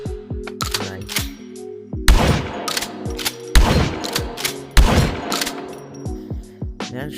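Gunshots ring out in a VR shooting game, with several sharp, loud bursts landing a second or two apart, mixed with smaller mechanical clicks and clacks of handling and reloading between them over a tonal game background.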